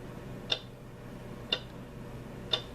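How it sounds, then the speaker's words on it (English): A white noise sleep machine plays its clock setting, a steady tick-tock with three crisp, evenly spaced ticks about a second apart, close and clear over a faint hiss. "It's a clock, the ticking of a clock."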